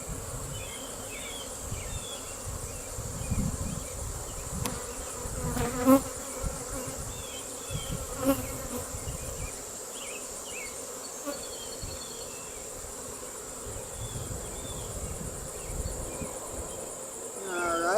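A honeybee colony buzzing steadily up close during a hive inspection, a dense droning hum with individual bees zipping past now and then.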